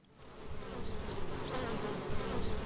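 Bees imported from Holland buzz steadily at wooden hive boxes on a fruit farm, a dense continuous drone that swells slightly and holds close and fairly loud, with no talk over it.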